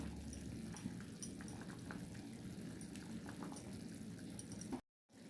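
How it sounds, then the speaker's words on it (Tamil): A pot of fish curry made with several kinds of fish bubbles steadily at a low, even level, a continuous soft simmering hiss with faint pops, broken briefly by silence near the end. "குழம்பு நல்லா கொதிச்சிச்சு"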